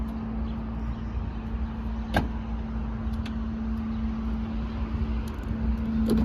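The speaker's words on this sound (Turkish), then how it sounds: "Bagajımızı kapatalım." The trunk of a 2023 BMW 520i Luxury Line closes with a low, steady motor hum, a sharp click partway through and a few faint clicks toward the end.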